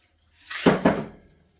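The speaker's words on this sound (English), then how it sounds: "you're going to go ahead and pour it right over your ice like that" Pink Whitney cocktail poured over ice in a glass at a bar station: a short splashing pour with two quick surges of liquid hitting ice, close and fairly loud, lasting about a second before fading.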